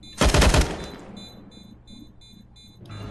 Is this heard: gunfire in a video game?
yes